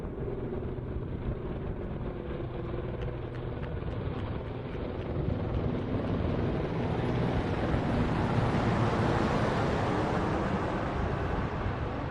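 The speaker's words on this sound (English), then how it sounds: "the helicopter formation" Steady, heavy engine drone of a helicopter formation passing overhead at a South African Air Force parade, rising slightly in loudness midway, with wind buffeting throughout.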